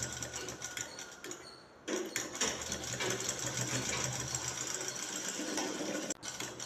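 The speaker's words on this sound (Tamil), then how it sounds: "காலர் பட்டி ஓரமாக தைக்கலாம்" A sewing machine stitches along the edge of a shirt collar with a steady rapid mechanical whir, pausing briefly twice before starting again, close and alone without talk.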